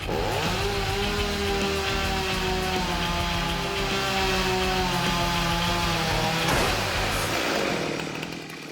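A chainsaw roars loudly and continuously, its engine note dipping as it bites into a log, then winding down at the end.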